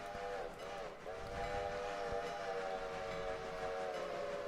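A steam train whistle in the railroad simulation game Railroader sounds a sustained, steady tone with a short break near the start, over a low rumbling background.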